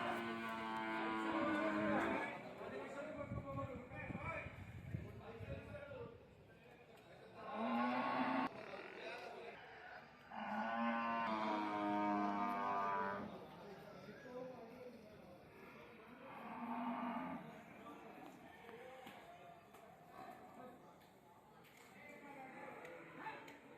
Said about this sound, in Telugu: ఈ వారం మార్కెట్కి వచ్చిన మొత్తం గేదెలను చూపిస్తాను చూడండి